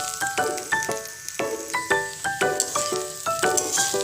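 Spice paste and potatoes fry in a pan for vegetarian khichuri, giving a steady close sizzle. A utensil stirs the pan with about nine sharp metallic clinks at roughly half-second intervals, and no one speaks.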